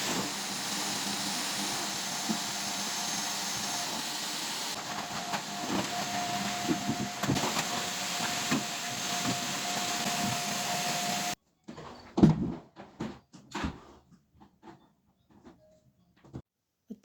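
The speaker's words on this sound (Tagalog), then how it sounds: "Vacuum na rin ako sa living room at sa dining." A vacuum cleaner runs with a steady, broadband roar through a living and dining room for about eleven seconds, then cuts off abruptly, leaving scattered household clatter and knocks.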